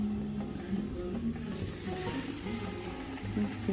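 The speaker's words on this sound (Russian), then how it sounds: "Ну и теперь обжариваем наши баклажанчики с обоих сторон." Eggplant slices for a pastry-free lasagna fry in a pan with a steady, dense sizzle and crackle that runs without pause.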